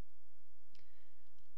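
A single faint computer mouse click sounds in a quiet room, followed by a couple of softer ticks.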